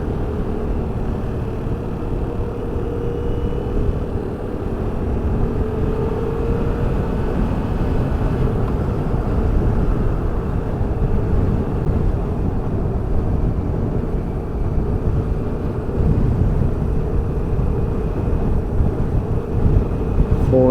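A 2020 Yamaha MT-07 motorcycle rumbles steadily while being ridden in fourth gear, with a constant low engine drone and wind noise throughout and no talking.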